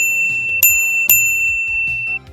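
Two crisp chimes of a notification bell sound effect ring out in quick succession, each with a bright metallic ring that lingers briefly, loud and clear over soft background music.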